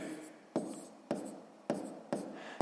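A pen writes numbers by hand during a sixth-grade percentage math exercise, producing four quiet, scratchy strokes spaced at an even rhythm, close by, with no talking.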